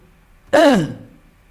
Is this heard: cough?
yes